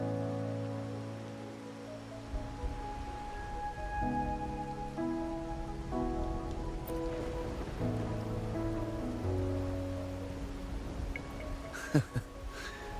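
Steady rain pattering on surfaces in the Wuthering Waves video game, a soft continuous hiss under sustained musical tones, with a brief sharp accent near the end.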